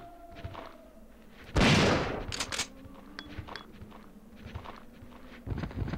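Gunshots from a handgun in Resident Evil 3 gameplay give one loud, sharp blast followed by a few quicker follow-up shots, with footsteps and game effects around them and no talking.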